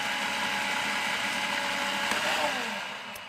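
A food processor runs steadily on its low setting, a continuous whirring motor hum held at an even level, easing off slightly near the end, with no voices.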